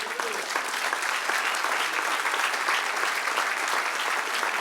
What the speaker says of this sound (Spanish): Denle un aplauso al que reina.